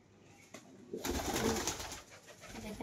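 A male Matross pigeon, all white, coos at a home loft. The cooing sits under a broadband rustle that grows louder after the first second, with no talking.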